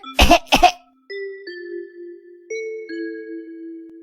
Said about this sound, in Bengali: এভাবে কাশছিস কেন বাবা? ঠান্ডা লেগেছে?